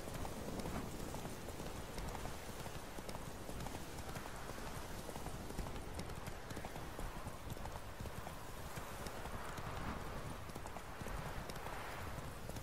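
A horse galloping in The Witcher 3 video game, its hooves pounding out a fast, continuous clip-clop rhythm close up over steady ambient noise, with no pause throughout.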